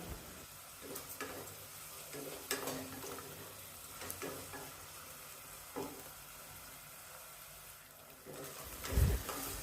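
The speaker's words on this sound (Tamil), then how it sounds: "தக்காளி வதக்கும் போதே குழம்புக்கு தேவையான அளவு உப்பு சேர்த்துடலாம்." Tomatoes sauté in a pan with salt for a Chettinad mushroom kuzhambu, giving a soft, steady sizzle broken by periodic scraping stirs and a brief clatter near the end.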